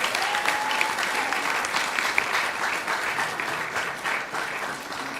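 An audience claps at a live Maha Sivaratri program, a dense, continuous round of applause that holds steady at a fairly loud level for several seconds.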